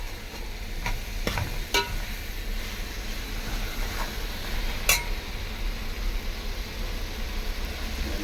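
Sautéing in a pan, with a steady broadband sizzle running throughout and a few sharp clinks of a utensil against the pan; no voices.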